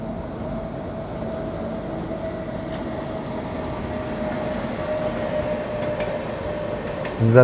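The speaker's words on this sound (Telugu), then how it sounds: "అటు సైడ్ నుంచి ఏదో ట్రైన్ వస్తున్నట్టుంది" A train rumbles steadily from the other side of the track, the Tamil Nadu Sampark Kranti Express crossing alongside, with a continuous heavy rolling roar and faint clicks throughout.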